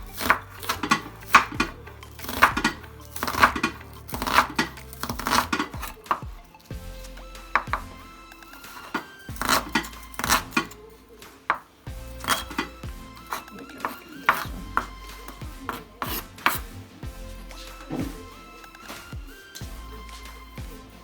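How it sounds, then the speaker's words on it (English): Onions being chopped with a knife on a board, a run of quick close taps in bursts with brief pauses, moderately loud in a quiet kitchen, with scattered clinks of dishes. "I'm gonna get my onion and I'm gonna chop the onions"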